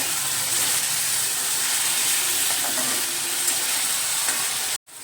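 Ground masala paste roasting in hot oil in a pan for a fresh field bean dish gives a continuous close hiss and sizzle, even and unbroken, cutting out abruptly right at the end.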